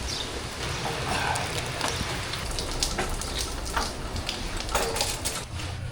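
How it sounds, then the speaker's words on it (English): Steady outdoor rain patters under trees in a yard, a dense, even hiss of drops with scattered louder ticks, continuous and fairly close, with no talking. "just before it started to rain and we pivoted and moved inside"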